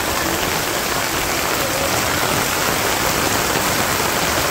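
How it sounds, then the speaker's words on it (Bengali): Heavy afternoon rain in a Bangladeshi village pours down as a dense, even hiss of drops, loud and close, steady throughout with no voices. "দুপুরবেলা প্রচুর পরিমাণের বৃষ্টি নেমে গেছে"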